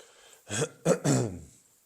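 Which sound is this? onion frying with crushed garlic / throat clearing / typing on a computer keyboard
throat clearing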